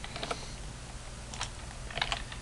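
Typing on a computer keyboard during a netcat chat session in a Bash terminal, a few short bursts of close, crisp key clicks separated by brief pauses.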